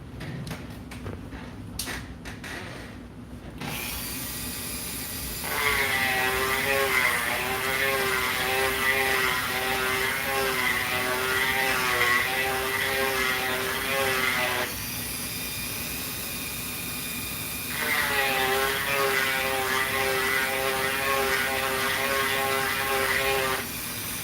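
A polishing wheel works a 1943 half dollar coin ring, a steady high motor whine that rises into a louder ringing grind while the piece is pressed against it, eases off, then grinds again.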